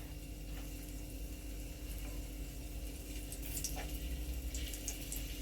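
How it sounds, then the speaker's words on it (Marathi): Stuffed green chillies filled with flour paste frying in hot oil in a pan, a steady low sizzle with faint bubbling crackles throughout, no talking. "तेल तापलं त्या मिरच्याच्या मध्ये सगळ्या पीठ भरलेल्या मिरच्या वर ठेवायची"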